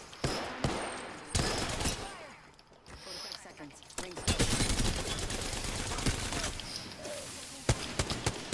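Video game gunfire from a squad firefight: sharp bursts of shots and rapid volleys come in clusters, loud and close, with short lulls between them.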